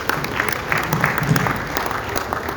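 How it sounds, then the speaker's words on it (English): Applause from an audience at a national teaching award ceremony rises and continues for a few seconds, moderately loud, with a faint murmur of crowd noise beneath it. "A round of applause for him."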